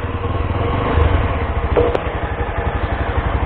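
A Yezdi Adventure motorcycle's single engine pulls away, a steady close throbbing drone with a fast regular pulse throughout, rising slightly as it moves off.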